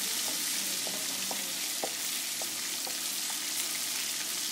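Chicken tikka sizzles in a pan over a high flame, a continuous frying hiss with a series of light, evenly spaced spatula scrapes and taps as the pieces are stirred.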